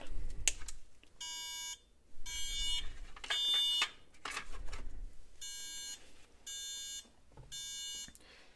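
A smoke detector alarm on a workbench sounds in repeated loud electronic beep bursts, each about half a second long, broken by short gaps and some handling clicks and bumps.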